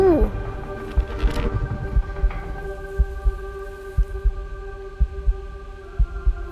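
A heartbeat sound effect in a music video gives steady, deep thumps about once a second beneath sustained musical tones.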